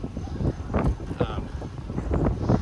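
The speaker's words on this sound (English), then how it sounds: "It's a little windy." Gusty wind from Hurricane Sally buffets the microphone with low, rumbling bursts that rise and fall throughout.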